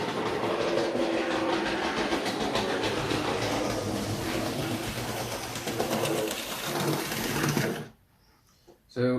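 Tri-ang model train coupled to several wagons runs steadily along its track, a continuous rattling clatter that stays loud and even for about eight seconds before cutting off abruptly into near silence.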